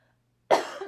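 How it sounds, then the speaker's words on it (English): A single short, sharp cough comes after brief silence, close and fairly loud. "I'm about to cough."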